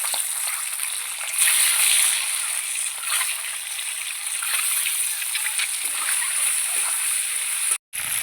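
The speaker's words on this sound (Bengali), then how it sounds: "এবার আমি ডিমগুলো ভেজে নেব। ডিমগুলো দিয়ে দেবো তেলে।" Local country-chicken eggs fry in hot oil in a wok, giving a steady, bright sizzling hiss with small crackles and pops that continues until a brief drop just before the end.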